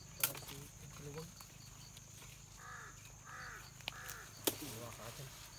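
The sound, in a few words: crow cawing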